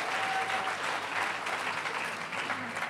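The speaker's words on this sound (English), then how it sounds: "That's worth an applause, everybody." At a university journalism school commencement ceremony, a large audience claps steadily, a dense, even wash of applause lasting a few seconds without a break.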